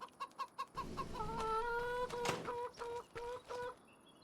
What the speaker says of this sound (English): So we have 5 roosters in there.